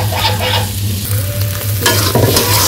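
Pumpkin dal cooking in a pan, stirred with a steady scraping while a continuous sizzle and low hum run throughout, close and fairly loud.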